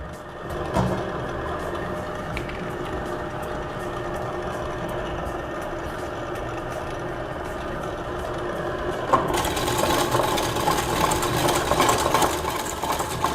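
An electric mixer whirs continuously, beating cake batter for a pineapple cake, close and steady with a faint rhythmic ticking, growing brighter and louder toward the end.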